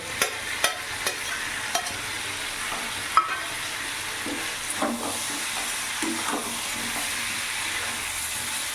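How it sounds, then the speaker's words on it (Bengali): Prawns are stirred and fried with pumpkin and peas over a raised gas flame: a steady hiss of frying broken by several spatula taps and scrapes against the pan, with no speech. "এবার চিংড়ি মাছ দিয়ে কিছুক্ষণ নাড়াচাড়া করে নেব"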